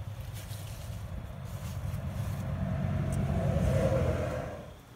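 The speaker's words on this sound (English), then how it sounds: "Here's a startup video of my 94 Ranger" A 1994 Ford Ranger, its engine just swapped, turns over and runs with a low rumbling idle that swells as it revs, then tapers off near the end; no talking.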